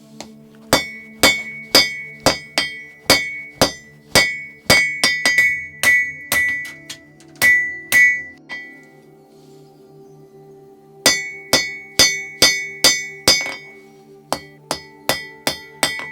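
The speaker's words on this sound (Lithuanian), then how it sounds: "Ten, kur pažymėjau, ten toliau kalu plokštinu šitą visą strypelį." A metal rod for a hinge is hammered flat on an anvil in a steady run of loud, ringing metallic strikes that pause briefly and then resume in even rhythm.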